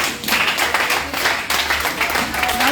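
A church congregation claps and applauds together in a steady, dense, continuous wash of hand claps filling the room, close and loud throughout.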